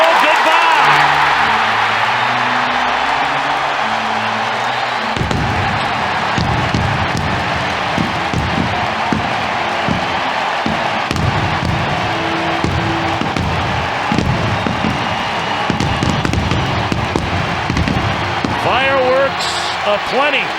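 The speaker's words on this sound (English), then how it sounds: "Fireworks aplenty on the south side of Chicago." Fireworks burst over a Chicago White Sox ballpark after a home run against the Cubs in 2006: a rapid, continuous run of booms and crackles mixed into a loud roaring crowd, with a broadcaster talking over it.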